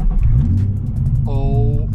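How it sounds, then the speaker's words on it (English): A Nissan 350Z engine rumbles loudly at idle, then revs upward with a rising tone midway through, heard close up. "Am I gonna start this car right now?"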